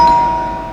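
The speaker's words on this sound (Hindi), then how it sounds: "आज तो लगता है घंटी खराब करके छोड़ेंगे।" A doorbell rings indoors in a single short chime that fades over under a second, with a faint second tone starting right at the end.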